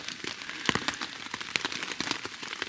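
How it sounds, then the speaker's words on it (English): Steady rain patters on surfaces at a national park campsite in Quebec's Abitibi-Témiscamingue region, dense irregular drops close by with sharper individual splats, no talking. "It's still raining, but I loved every minute of it."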